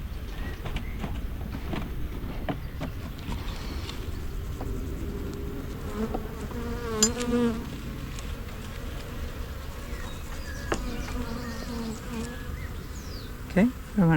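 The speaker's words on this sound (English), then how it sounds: "Okay, fair amount of bees." Honey bees hum continuously inside a hive being inspected, with individual bees whining past close by and occasional light knocks from handling.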